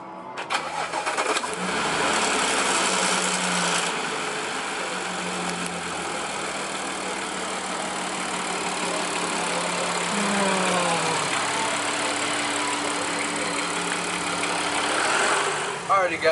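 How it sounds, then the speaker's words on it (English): An Audi 3.0T car engine starts and runs while driving after an oil change, a steady mid-pitched drone with shifting tones and a rise near the middle, close and continuous under occasional talk. "Now we're gonna take her on a drive and get the oil flowing through her."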